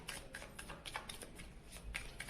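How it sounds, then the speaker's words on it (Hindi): Tarot cards being shuffled by hand in soft, rapid riffling bursts that repeat several times, quiet and close, with no talking. "तो चलिए हम कार्ड शफल करते हैं और रीडिंग को कर देते हैं"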